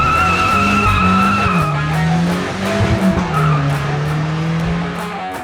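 A turbocharged VW Gol on the Velopark race track squeals its tyres loudly with a wavering engine drone, heard close and continuous.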